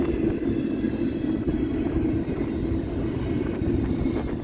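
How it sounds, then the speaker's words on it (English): A freight train in Bellevue, Ohio rumbles past close by in a steady low roar, with no voices. "this train originated out of Bellevue"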